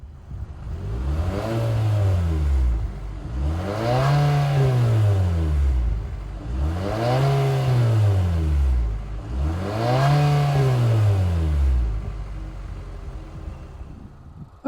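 A 2023 Infiniti QX50 Sport AWD engine with functional dual exhaust revs four times in steady succession, each rise climbing to a loud roar and falling back, with a deep exhaust rumble and no talking.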